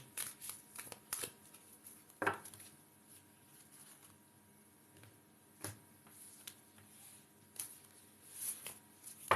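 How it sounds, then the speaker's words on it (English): A deck of moon oracle cards is shuffled for a reading, giving soft, close riffles and slides with scattered sharper flicks and taps at irregular intervals, quiet and free of talk. "So let's do Lillian with the moon cards"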